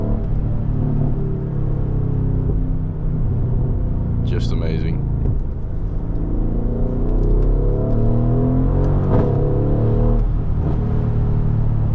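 A blacked-out Mercedes-AMG GLE 63S SUV with a loud, deep engine rumbling and swelling into revs, close by and steady, while someone talks over it and adds a brief remark.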